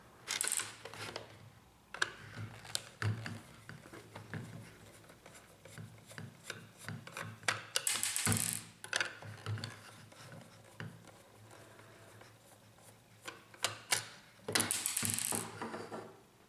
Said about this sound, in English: Remove the 3 screws on the right side of the cartridge.